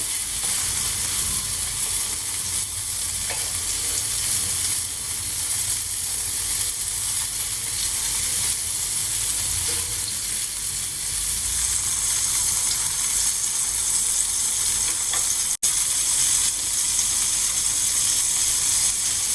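Brinjal shallow-frying in oil on a tawa hisses in a steady, even sizzle that runs unbroken throughout, with a single sharp click near the end.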